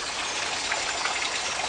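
Water rushing through a muddy, neglected watercourse outdoors, a steady, fairly loud gushing hiss heard close by, unbroken and with no voices.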